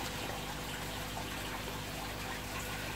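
Dry aquarium substrate, unwashed, pouring into a glass light bulb, giving a steady, continuous granular rushing hiss for the whole stretch, close and even in level with no talk.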